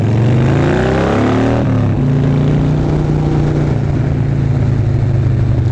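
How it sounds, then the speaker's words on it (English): A 96 cubic inch Twin Cam engine on a Harley FatBoy motorcycle drones steadily while riding, a loud continuous low rumble with a brief shift in pitch early on, no talk. "96 cubic inch twin cams really killing it today."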